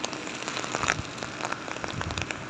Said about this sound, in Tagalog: It's a raining day.